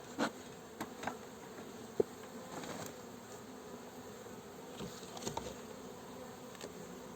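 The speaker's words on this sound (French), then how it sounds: "Elles sont vraiment calmes pour des abeilles qui sont sans reine." Honeybees from a queenless swarm buzz steadily at low level, a continuous dense drone with occasional nearer bees passing by, set around a hive after a puff of smoke.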